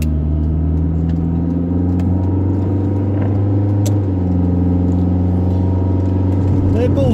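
Roewe 216 car pulling away, a steady low engine drone with a rising rev that holds close and loud throughout, no voices over it.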